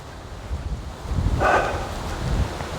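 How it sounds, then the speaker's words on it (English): Wind gusts across an open walking trail on Lady Anne's Way, buffeting the microphone in two rough swells of low rumble over a faint steady hiss. "getting a bit windy again"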